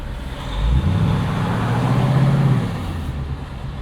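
A 2024 Ford Mustang GT with its exhaust set to track mode gives a deep low rumble that swells and holds steady for about two seconds, then eases back, heard from inside the car with no talk.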